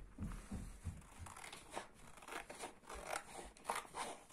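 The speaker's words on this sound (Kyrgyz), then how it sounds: "Эми булардын бөлүктөрүн кесип алалы эми азыр." Scissors snip through paper parts of a small yurt model in a quick series of crisp, close cuts mixed with soft crinkling, quiet and with no talking.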